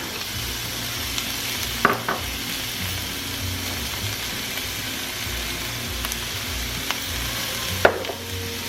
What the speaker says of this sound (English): I'm going to add some olive oil and the onions. We're going to saute those with some garlic, salt, and pepper.